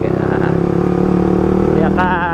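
A motorcycle fitted with a loud non-standard exhaust idles and revs close by, its throbbing engine note steady and then rising sharply near the end.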